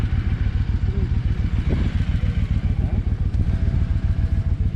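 A motorcycle rides toward the Statue of Unity, its engine chugging loud and close in a steady rapid pulse with some mechanical clatter and wind, and no speech over it.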